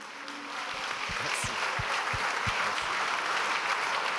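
Applause from an audience at a restaurant awards ceremony for the best gastronomic tables of the Loire, a steady wash of many hands clapping that swells slightly and holds throughout.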